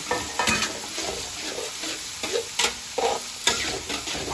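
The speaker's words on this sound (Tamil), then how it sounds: "இப்போ வந்து வெங்காயத்தை போட பாருங்கள் சொய்யின்னு சவுண்டு வரும்" Onions tossed into a hot pan for a cabbage and potato gravy crackle and sizzle steadily, with bursts of louder frying and faint utensil scrapes as they are stirred close by.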